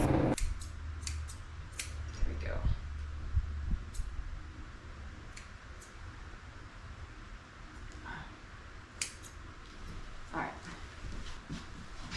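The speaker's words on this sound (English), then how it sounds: "I just got to come back and snip them off." Scissors snipping hair around a senior poodle's eyes during grooming, with faint, scattered metallic clicks over a quiet background hiss.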